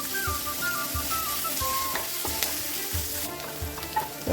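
Crushed garlic and ginger frying with onions in a pan, a steady close sizzle broken by the scrape and clatter of stirring, with no voices.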